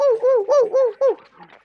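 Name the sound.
boy imitating a dog barking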